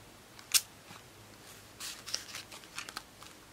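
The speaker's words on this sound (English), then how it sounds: "I usually have trouble like cutting washi that way, but it's working out today" Washi tape is snipped with scissors in a quiet room, with one sharp cut followed by a few softer crinkles and small snips.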